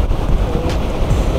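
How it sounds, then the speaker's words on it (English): Strong wind blows steadily at a beach on a cold July day, a constant loud rumbling buffet across the mic with faint surf beneath, no voices. "Shouldn't be this windy."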